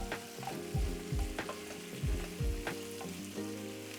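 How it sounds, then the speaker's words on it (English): Brussels sprouts and bacon sizzling in a non-stick pan over moderate heat, a steady close frying hiss punctuated by rhythmic thumps and scrapes as they are stirred, no talking. "Again, don't forget to stir your sprouts and bacon. Non-stick pan, it's not on really hot,"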